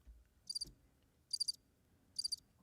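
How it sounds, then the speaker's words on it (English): Crickets chirp as a sound effect in three evenly spaced bursts of rapid, high pulsing trills, clear and fairly quiet against a near-silent background. "There's nothing but crickets."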